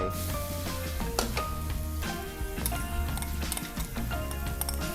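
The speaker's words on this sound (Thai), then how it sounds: "เราจะผัดจนหอมแดงเนี่ยมีความใสนะครับ" Finely chopped shallots stir-fry in a hot pan, a steady sizzle that runs the whole time, broken by scraping and tapping of a utensil against the pan.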